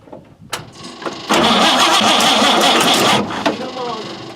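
An old 1950 Chevy engine cranks briefly, then catches and roars to life with a loud, steady running burst that drops back toward a rough idle, with short voice exclamations around it.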